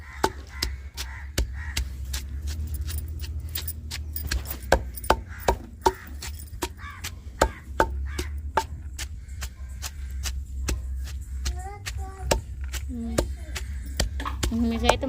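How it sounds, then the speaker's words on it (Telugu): Soaked lentil batter for garelu is pounded in a steady series of sharp, thudding strikes, close and fairly loud, while someone talks intermittently over the rhythmic beats. "మొత్తం అయితే ఇంక దంచేసుకున్నాం అనమాట, మెదిగింది."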